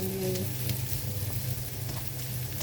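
Dried prawns cooking in a pan give a steady, close sizzle that holds evenly throughout, with a faint tonal hum at the very start.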